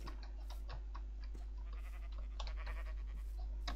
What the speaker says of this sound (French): Petit mouton.